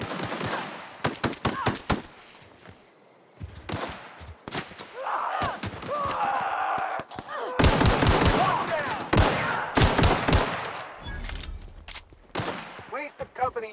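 Automatic gunfire in the video game The Outer Worlds, with loud rapid bursts and single shots cracking over a steady background, the volleys heavier in the second half.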